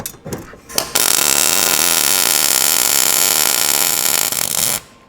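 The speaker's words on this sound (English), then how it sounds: "So I'm gonna weld up here at the top first, inside." A welder runs a steady, harsh buzzing bead on a 20-gauge car body panel during a Lykan Hypersport replica build. A few short crackles come first, then about four seconds of continuous loud arc noise that stops abruptly.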